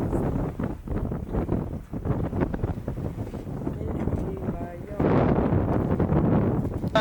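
Heavy 20-knot wind rushes and buffets the microphone over sloshing water aboard a moving sailing catamaran off Sardinia, loud and steady, growing stronger near the end.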